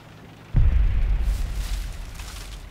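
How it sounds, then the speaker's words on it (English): A Leopard tank blows up close beside the player in a tank combat game, a sudden heavy boom with a deep low-end thump that trails off into a long rumbling decay. "Just leopard exploding off to my side."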